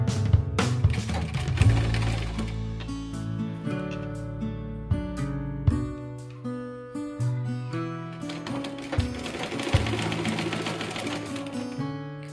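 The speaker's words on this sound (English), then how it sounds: "So we have to sew on the other side again." A sewing machine stitches a homemade fabric face mask in close, rapid mechanical bursts with short pauses between runs, steady and fairly loud throughout.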